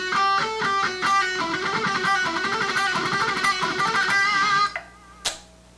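Guitar plays a short picked phrase of quick single notes, then lets the final notes ring and fade, followed by a brief percussive tap near the end.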